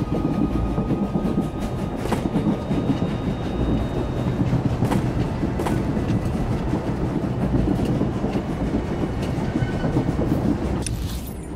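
A moving train in the video game SWTOR rumbles steadily with a dense, continuous rolling clatter and faint metallic clicks throughout, loud and without pause.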